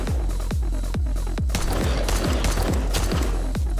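Gunfire in 7 Days To Die, loud evenly spaced heavy shots, about a dozen booming reports in quick succession, each with a deep thud and short decay.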